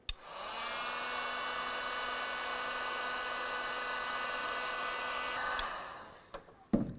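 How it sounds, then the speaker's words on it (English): A heat gun blows a steady, loud whooshing hum while warming the adhesive behind a tailgate emblem on a 2004-2015 Nissan Titan, then shuts off with a few clunks at the end. "This can easily be done by using a heat gun."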